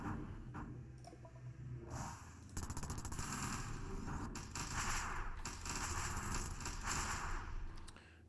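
Rapid gunfire from ship battles in the space strategy game Stardrive crackles in dense bursts of fast, sharp shots, quiet in the mix and broken by brief pauses, with no voices.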